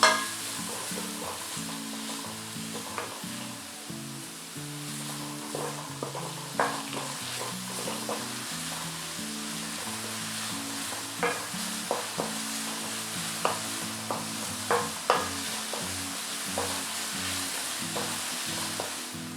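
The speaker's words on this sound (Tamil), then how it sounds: "பூண்டை வந்து இடித்து சேர்த்துருக்கேன். ஸோ இதெல்லாம் வந்து நல்லா வதங்கணும்." Crushed garlic and onion sautéing in a pan for spicy garlic rice, a continuous sizzle with repeated knocks and scrapes of a spoon stirring, close and steady, while quiet music plays underneath and nobody speaks.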